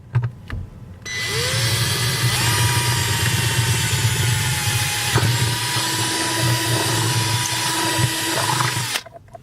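A power drill bores a pilot hole through a car's firewall just below the wiring harness on a police interceptor project car. The motor spins up with a rising whine, then holds a steady, loud whirring grind for several seconds before stopping.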